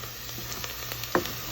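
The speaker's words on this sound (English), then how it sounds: "So, stir." Ground coriander stirred in a hot pan for mujadara, with a soft continuous sizzle and one brief scrape of the spoon near the end, close and without talk.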